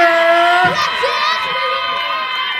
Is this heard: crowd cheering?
yes